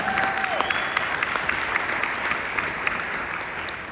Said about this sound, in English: So everyone give Daniel and Tyson a big round of applause.